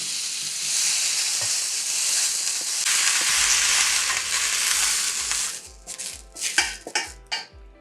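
Green beans blistering in a hot pan with peanut oil give a loud, dense sizzle that swells midway, then turns into a run of quick tossing scrapes and clatters against the pan.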